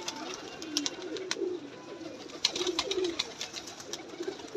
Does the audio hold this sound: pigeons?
yes